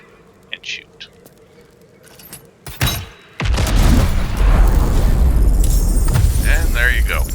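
Shooting a tank in the Baldur's Gate 3 video game: a few faint early ticks and a sharp hit, then a loud, sustained rumbling blast that roars on to the end, heard alone without talk.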